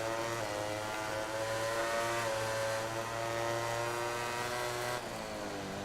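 A factory Ducati motorcycle engine in the MotoGP 19 racing game holds a high, buzzing rev that climbs and sags, with a gear change near the end.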